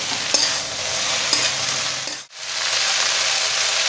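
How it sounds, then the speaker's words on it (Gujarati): Veg chow mein noodles made without onion or garlic are stir-fried over a high flame, giving a loud, steady sizzle with tossing and scraping, a brief break in the middle, then more hissing. "બસ આવી રીતના સ્ટર ફ્રાય."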